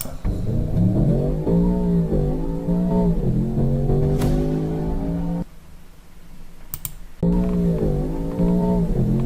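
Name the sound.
Range Rover Sport SV Edition One accelerating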